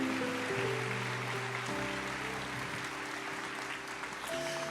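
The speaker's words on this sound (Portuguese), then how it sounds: "Aplauda o Senhor." A church congregation applauds steadily during a worship service. The broad, continuous clapping sits over sustained organ or keyboard chords.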